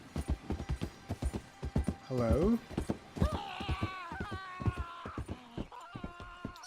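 Horse hooves clip-clopping in the video game Red Dead Redemption 2, a steady rhythmic clopping heard beneath someone talking, with a brief whinny-like sound in the middle.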